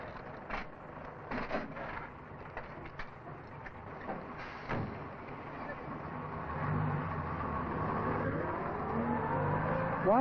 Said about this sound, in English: the dustmen drive away, taking the school rubbish with them